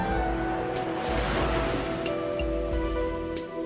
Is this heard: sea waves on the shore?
yes